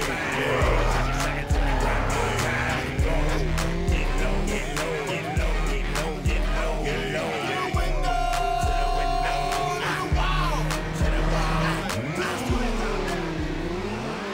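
Race cars in a video game, with drag, circuit and drift modes, roar through a race with rising engine revs, screeching tire squeals and skids, all loud and continuous over a steady thumping beat.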